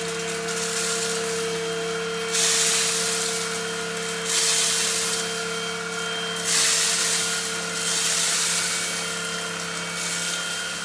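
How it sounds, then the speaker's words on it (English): A UWANT V500 and an SVHT cordless vacuum picking up debris hum with a steady high whine and airy hiss, swelling into brief louder surges every couple of seconds as the suction takes up the mess, with no talk. "check the suction on both vacuum to see how quick they get to pick them up"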